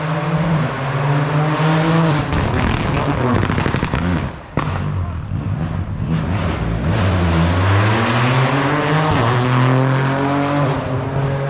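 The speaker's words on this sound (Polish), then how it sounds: "właśnie jedzie kolejne auto" A rally car at the 2025 European Rally Championship Rally of Rome roars past at high revs, engine note rising and falling as it shifts gears, loud and continuous with a brief dip midway.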